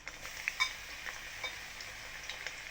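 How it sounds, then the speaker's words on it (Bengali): Onion and ginger fry in hot oil for fried rice, a faint, steady sizzle broken by light clicks of stirring. "তেলটা গরম হয়ে গেছে, এখানে আমি পেঁয়াজগুলো দিয়ে দিলাম"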